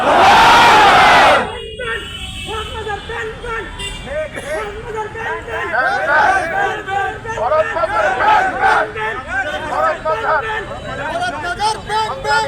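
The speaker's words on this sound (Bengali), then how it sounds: "আপনারা সকলে বলেন নারে তাকবীর" A large crowd at a religious protest rally chants the takbir, Allahu Akbar, in loud, surging collective shouts that rise and fall in waves after a brief harsh burst at the start, with a leader's amplified voice among them.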